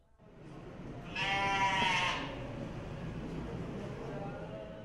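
Two fuzzy white sheep inside a small cafe in Seoul, South Korea, one clear wavering bleat rising over indoor room murmur, near and moderately loud.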